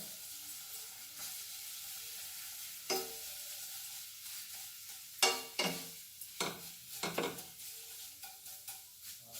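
Vermicelli fries in ghee over a low flame in a stainless steel vessel, a steady quiet sizzle broken by repeated scraping stir strokes and clinks against the pan, with no talking.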